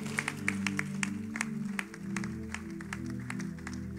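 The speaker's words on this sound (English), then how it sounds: "Clap now." Congregation claps along in a church service, with steady rhythmic handclaps over sustained, music-like tones that carry through the whole stretch.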